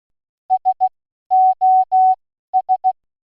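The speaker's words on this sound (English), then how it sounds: "3 short tones for S, 3 long tones for O, and 3 short tones for S" Morse code SOS played as clean beeping tones: three short beeps, three long beeps, then three short beeps, clear and alone with silence between groups.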